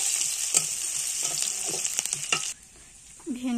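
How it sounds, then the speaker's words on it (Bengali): Garlic, onion, green chili and five-spice seeds fry in hot oil with a steady crackling sizzle, broken by several scraping stirs of a utensil, before it drops quiet. "প্রথমে দিয়ে দেবো পাঁচফোড়ন, পেঁয়াজ, কাঁচা লঙ্কা,"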